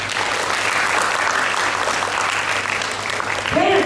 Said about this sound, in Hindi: पहली बार तालियां बजाई जाएंगी जोरदार हमारे जूरी पैनल्स के लिए